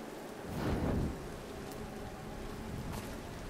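Steady rain hisses across the scene in the Tomb Raider (2013) video game, a dense wash with a low rumbling swell near the start like distant thunder.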